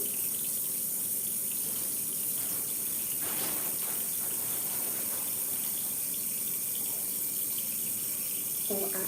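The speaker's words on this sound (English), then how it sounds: "I'm going to wash my face before I do this because it says thoroughly cleanse and dry face" Water runs from a tap into a sink during face washing, a continuous close gush with a few brief splashing bursts.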